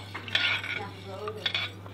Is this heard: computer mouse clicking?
no